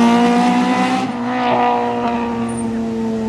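A Volvo Amazon rally car in a class one entry at the Rajd Śląska 2023 rally passes at speed, with a loud, strained engine note that swells and then fades into the distance.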